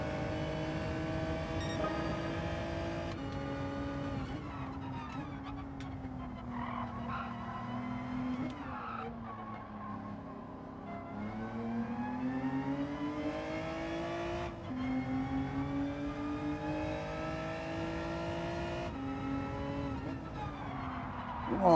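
A Gr.4 race car in Gran Turismo 7 skids and spins out during an online lobby race, tyres squealing in a long sustained howl over a steady engine drone, with the engine note wavering as the car slides.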